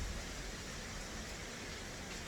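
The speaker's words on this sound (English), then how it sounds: "It's been raining crazy out here." Heavy rain pours down outside in Mumbai as a cyclone approaches, a steady dense hiss of falling water that stays even and unbroken throughout, with no voices heard.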